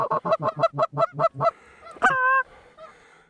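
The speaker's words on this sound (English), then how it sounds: "Geese on the left now." Several geese honk in a fast run of calls as they fly in toward hunters at a duck and goose hunt, followed by a longer, drawn-out honk and fainter calls.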